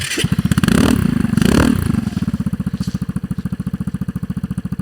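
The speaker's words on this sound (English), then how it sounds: "It's a great sounding bike." A motorcycle engine runs close by, revving twice to a loud roar and then settling into a fast, even, throbbing idle.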